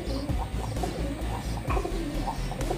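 A speckled racing pigeon coos softly in a loft, its low repeated murmurs sitting under steady background noise for a few seconds.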